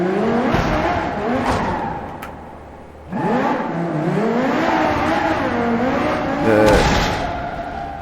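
A car in BeamNG.drive with burst tyres driving in reverse, its engine revving and whining loudly, rising and falling in pitch with a brief dip before surging again, with whirring and tyre noise throughout.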